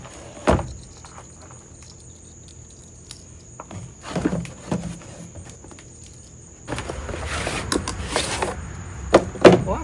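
A 3/8-inch SUZUME SM3202 digital torque wrench package is opened with scattered close rustles, knocks and handling clatter, followed by a denser burst of crinkling and rattling in the final few seconds.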